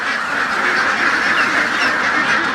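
A flock of ducks on a duck farm in Laos, dense continuous quacking from many birds close by, loud and unbroken with no talk.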